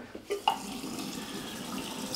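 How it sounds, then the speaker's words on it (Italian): Tap water runs in a steady stream over a shaving brush at a sink, with a couple of small knocks at the start and then a continuous close splash. "Il pennello, intanto glielo passo sotto l'acqua."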